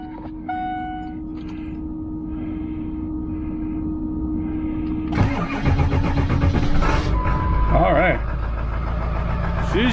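A snow plow truck engine cranks over and starts midway, then settles into a loud, rumbling idle close by. A voice speaks over the sound.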